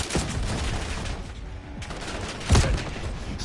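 Gunfire in the Call of Duty Black Ops 7 campaign, dense bursts of automatic shots with a heavier boom near the middle, loud and continuous across the whole stretch without any talk.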